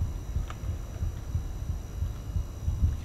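A steady, muffled heartbeat throbs in a regular rhythm of low thumps inside a Backrooms horror video game, continuous and fairly close with a faint hum behind it.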